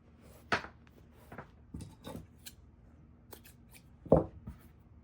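Yarn-snipping scissors close a few times on excess yarn at a crochet black bear's head, giving brief, soft, near clicks and snips separated by quiet handling.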